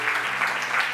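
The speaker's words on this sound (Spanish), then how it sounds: "Vamos a darle un aplauso fuerte a Dios." A church congregation claps together in a loud, steady burst, the applause filling the short moment with a rhythmic pulse of hands.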